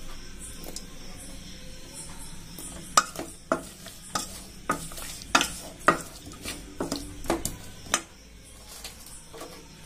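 Garlic being stirred into amla gooseberry pickle in a pan, producing quiet, irregular scraping and sharp clinks of a spoon against metal, with no talking.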